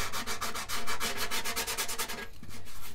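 Sharp sandpaper rubs quickly over the soft wooden edge of a guitar sound hole, making a rapid series of close, rasping back-and-forth strokes.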